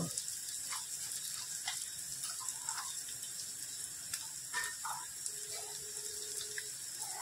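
Grated coconut sautéing in oil in a pan while cooking gawar bhaji, giving a faint, steady low sizzle throughout with small soft clicks of the pan and no talking.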